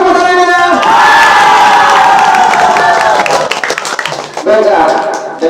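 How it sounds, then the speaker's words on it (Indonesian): Audience at a Ramadan Qur'an quiz competition clapping and cheering loudly, with children shouting in a dense crowd roar that dips briefly before surging again near the end. "Mana tepuk tangannya?"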